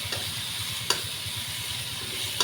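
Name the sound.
sautéing onion, green chili and bombil for chutney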